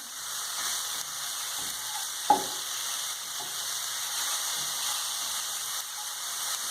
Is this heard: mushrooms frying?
yes